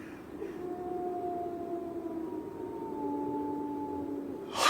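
A radio-drama howl of the Hound of the Baskervilles on the moor: long, wavering, mournful tones that hold and slowly bend in pitch, distant and fairly quiet, ending in a brief burst of noise.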